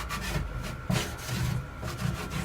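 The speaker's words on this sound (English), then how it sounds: "thinners on a rag, just going round and getting any loose dust or grease" A rag soaked in thinners is rubbed over VW Oval Beetle parts to clear dust and grease. It gives soft, repeated scrubbing strokes, close and fairly quiet, with no talking.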